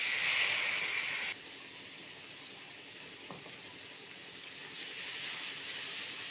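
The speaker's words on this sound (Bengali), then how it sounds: "মশলাটা ভালোভাবে কষিয়ে নেব।" Ground spice paste fries in a pan with a soft, steady hiss, louder for the first moment and then settling into a quiet, even sizzle.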